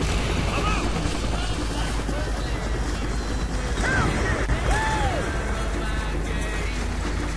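Motorboat driving in the video game Call of Duty Black Ops, a steady engine drone with water rush and scattered game effects throughout, loud and continuous with no pauses.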